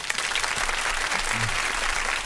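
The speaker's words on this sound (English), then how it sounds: "Well, once again, let me give you a round of applause." Steady, full applause from an audience at an interview event with a former mayor, many hands clapping continuously and loudly throughout.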